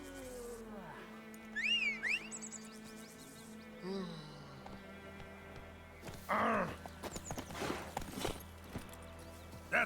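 Roach, a horse in The Witcher 3 video game, moves with soft clip-clop hoof steps and a brief whinny-like call, set among game ambience, birdsong-like tones and short bursts of activity.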